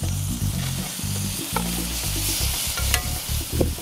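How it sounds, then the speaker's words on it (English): Melting butter and garlic sizzle loudly in a hot pan for grilled lobster tails, a dense steady crackle with occasional pops, close and without voices. "Now the butter is melting, we're gonna throw in some garlic in there too."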